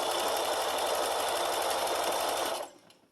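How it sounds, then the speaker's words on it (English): A sewing machine runs steadily and close by while stitching binding down the edge of a Halloween-themed table runner. Its fast, even whir holds for about two and a half seconds and then stops abruptly. "We're just going to keep sewing all the way down the edge here"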